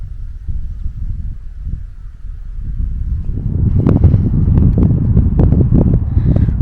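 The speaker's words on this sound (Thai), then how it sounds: "ลมนิดนึงนะคะ" Wind gusts over a misty seashore beside rocky hills, a steady low rumble of microphone buffeting that swells louder and more turbulent partway through, with no voices.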